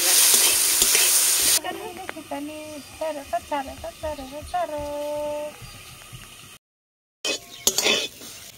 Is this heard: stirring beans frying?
yes